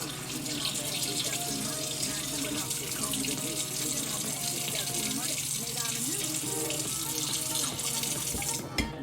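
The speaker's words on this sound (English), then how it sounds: "fill it up with water just so that the water covers the chicken" Tap water runs steadily into a pot holding chicken in a home kitchen, a continuous close gushing splash that fills the whole stretch and stops abruptly at the end.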